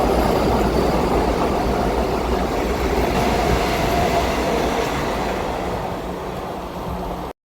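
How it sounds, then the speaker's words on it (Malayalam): A Vande Bharat express on the Ernakulam–Bangalore route rushes through a railway station at Chalakudi, a loud, steady roar of wheels and rail noise that fades slightly toward the end, with no talking. "ഇതാണ് നമ്മുടെ എറണാകുളം ബാംഗ്ലൂർ വന്ദേ ഭാരത്."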